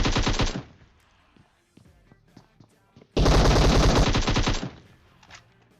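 DP machine gun fire in PUBG, delivered as two loud sustained bursts of rapid shots separated by a quieter stretch with faint distant pops.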